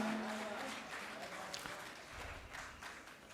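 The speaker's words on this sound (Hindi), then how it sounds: "ज़ोरदार तालियां तमाम बच्चों के लिए जिन्होंने परफॉर्म किया है" Applause from an audience for performing children at an international school award event in Gopalganj, a soft, distant, uneven patter of clapping with murmuring voices underneath.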